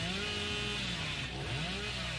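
Billy's chainsaw in a horror video game drones steadily near at hand, a buzzing engine note that wavers up and down in pitch throughout.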